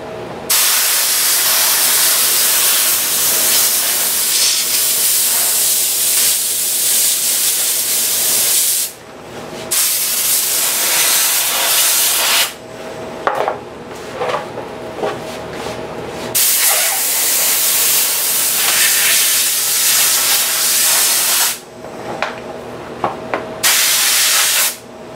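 Compressed air hisses loudly and steadily to free a plug from a tip tank mold, running in long bursts with brief pauses between them, close and harsh.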